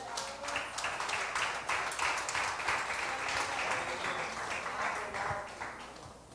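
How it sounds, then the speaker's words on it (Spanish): Church congregation claps in praise of the Lord during a sermon, a dense, steady wash of applause filling the hall for about six seconds, with some cheering voices mixed in and a slight tapering at the end. "Denle una ofrenda de palmas al Señor."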